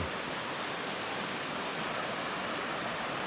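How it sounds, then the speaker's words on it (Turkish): A stream flows on both sides of a tree near Kızılkeçili village in the Kazdağları mountains, a loud, steady broadband rush of water with no voices. "İki tarafından dere akıyor ağacın."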